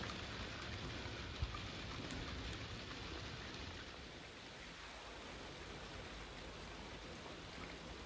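A steady, even hiss of rain falls outdoors near a garden polytunnel and holds constant throughout, with no voices over it.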